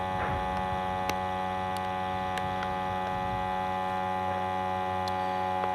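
A vacuum sealer runs with a steady motor hum as it pumps the air out of a bag. The drone stays even throughout, with a few faint ticks over it and no talking.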